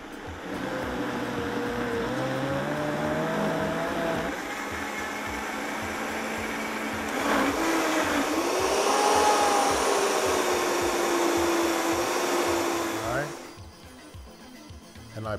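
A Vitamix blender purees cooked butternut squash for soup, a loud motor roar that climbs in pitch as the speed is slowly raised, then drops away near the end; a voice is heard faintly beneath.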